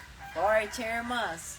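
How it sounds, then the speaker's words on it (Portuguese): A rooster crows once in a drawn-out, rising and falling call, fairly near and moderately loud. Someone speaks Portuguese over and around it. "Olha o galo cantando."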